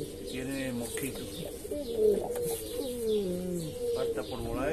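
Homing pigeons in a home loft coo repeatedly close by, soft overlapping rolling calls with a few chirps mixed in, continuous and fairly loud with light background noise.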